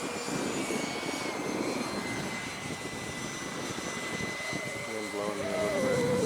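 A Vampire electric ducted-fan R/C jet flies at about half throttle, giving a steady airy whine that holds throughout with wind noise, while someone speaks over it.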